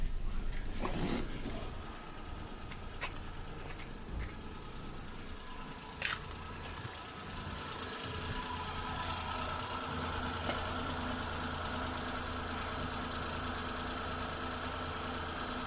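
A car engine with NGK Laser Iridium or Denso Iridium TT spark plugs idles steadily up close, a constant low rumbling hum with a few light clanks early on.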